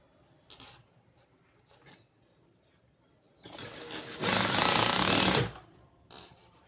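A sewing machine stitches over a rolled fabric edge. A few soft taps and clicks come first, then the motor whirs up into a loud, buzzing run for about two seconds and stops, with one brief burst after. No one speaks.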